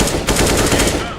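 Rapid automatic gunfire in Counter-Strike: Global Offensive, a dense burst of about ten evenly spaced shots, loud and close throughout the brief moment.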